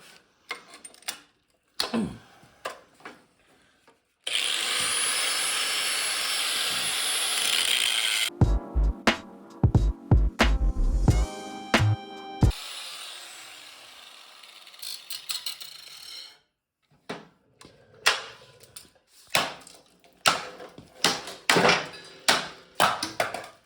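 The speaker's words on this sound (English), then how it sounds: "the new plan is to cut the pulley off" Power tool grinding off a jammed pulley on a budget racing mower build, a long loud whine broken by rough chattering bursts, with clanks and scattered taps before and after.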